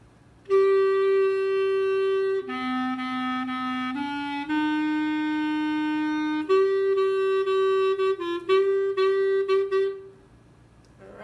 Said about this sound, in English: the last part is the tenor sax French horn part.